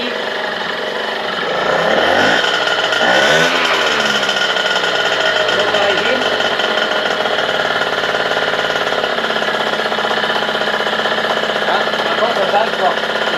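Peugeot 51 moped engine idling steadily, a loud, close, continuous buzzing putter that briefly rises in pitch around the start before settling back to an even idle.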